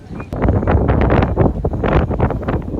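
Strong monsoon wind sweeps across an exposed hilltop, buffeting the microphone with loud, continuous roaring gusts that rise and fall for the whole stretch.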